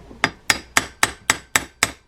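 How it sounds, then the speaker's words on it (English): A dead blow hammer taps a part back into a Penn 16/0 Senator 118 fishing reel, eight even, close, sharp blows at a steady quick rhythm. "I'm using a dead blow hammer here."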